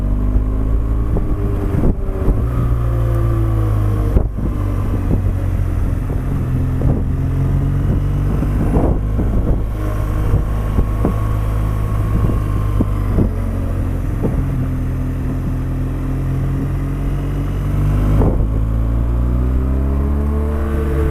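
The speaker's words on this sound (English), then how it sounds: "I can hear all the mechanical noises of the bike" Continuous engine drone and mechanical whirring from a moving motorcycle, with shifting pitch and heavy wind buffeting throughout, no voices.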